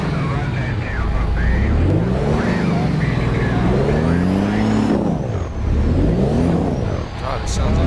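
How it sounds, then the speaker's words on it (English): In American Truck Simulator, a truck's engine revs up and down repeatedly, its deep, loud drone rising and falling in pitch while people talk over it. "Is this the engine?"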